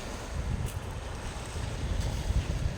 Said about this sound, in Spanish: Escuchen el sonido del mar.